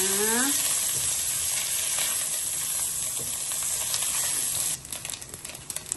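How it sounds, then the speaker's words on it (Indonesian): Small anchovies (teri) fry in hot oil with a loud, steady sizzle and hiss throughout; a brief rising whistle sounds at the start and the frying turns crackly and uneven near the end. "Kita goreng dulu terinya."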